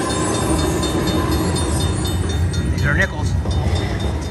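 A Cash Express slot machine plays a train sound effect, a loud rumbling rail roll with clattering wheels and a brief whistle-like tone, while people talk over it in a casino.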